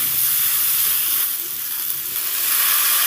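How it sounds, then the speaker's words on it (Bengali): Cumin powder and slit green chillies fry in hot oil, giving a steady close-up sizzle and hiss that dips briefly midway, with no talking. "কয়েকটা চেরা কাঁচা লঙ্কাও দিয়ে দিলাম সুন্দর করে নেড়ে চেড়ে ভেজে নেব"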